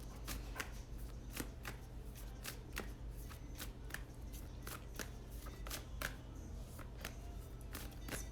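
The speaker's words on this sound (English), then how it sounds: "Spirit is really making me shuffle tonight," Tarot cards being shuffled by hand at a desk, a steady run of crisp riffling snaps and flutters repeating roughly every half second, close and fairly quiet, with no talking.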